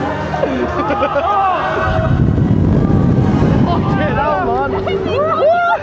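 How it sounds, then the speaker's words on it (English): Loud wind buffets the microphone throughout on the Aviktas roller coaster at Blackpool Pleasure Beach, a rushing low roar that swells in the middle, while people chatter over it. "I apologise for any wind noise in advance."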